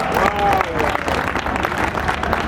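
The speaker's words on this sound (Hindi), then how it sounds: "मैं चाहूँगा कि जब मैं कहूँ तो सब लोग जोर से तालियां बजाएंगे" An audience at a dedication festival for a Vedic school building claps loudly and continuously, a dense even wash of applause with a voice faintly audible beneath it.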